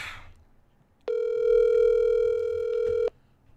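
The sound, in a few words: telephone call ringing tone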